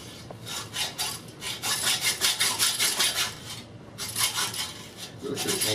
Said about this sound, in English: Now the blade on this hacksaw, the teeth are down, which means you only get the down cut